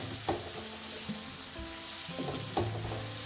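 Carrots and mixed vegetables stir-frying in oil, a dense continuous sizzle with occasional spatula scrapes and knocks against the pan, close and fairly loud.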